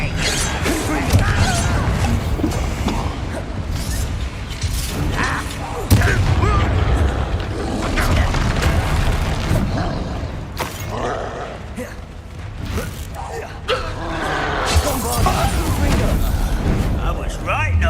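Loud magical spell blasts of Bombarda and Confringo in the video game Hogwarts Legacy burst and boom amid constant dense combat noise, with a voice calling out spell names.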